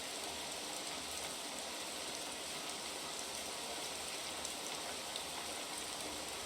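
Rain in the video game Crimson Isle, a steady dense hiss of falling rain with no breaks, loud and even from start to finish.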